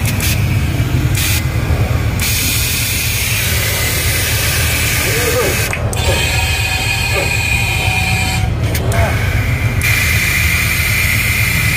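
A car engine runs steadily during an air suspension check, giving a loud, constant rumble with airy hiss throughout and a brief spoken word over it.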